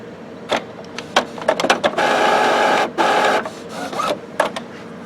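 An Epson WorkForce WF-series inkjet printer runs its system preparation cycle, giving bursts of mechanical whirring and clicking with a longer steady motor run in the middle, close and fairly loud.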